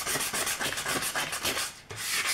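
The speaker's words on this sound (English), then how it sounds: "we're sanding this surface just to give ourselves a good surface for the glue to bite to" Steady, rhythmic rasping of sandpaper rubbed back and forth across a surface, close and continuous with a brief pause near the end.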